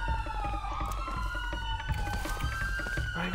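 A police car siren in GTA 5 wails with a steady rising and falling tone throughout, fairly close, layered over engine rumble and game noise.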